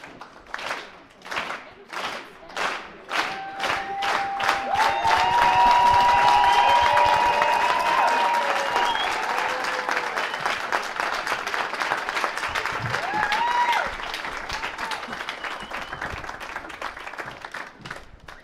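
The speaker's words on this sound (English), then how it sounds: "So let's start the clap." A conference audience at a book launch starts with a few slow, rhythmic group claps that swell into full, dense applause with some cheering, fading gradually at the end while a voice speaks over it.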